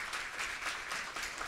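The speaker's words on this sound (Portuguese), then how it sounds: "Eu queria pedir uma salva de palmas" Faint, steady applause from a university lecture audience, a short even patter of clapping heard from a distance with no voices over it.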